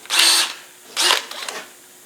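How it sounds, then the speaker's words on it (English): A pilot drill boring through thin punched metal while fitting an Ashcroft air locker to a Rover differential, heard as two loud, close bursts of high whining bit noise with a short pause between, and no talk. "we're going to use our pilot drill"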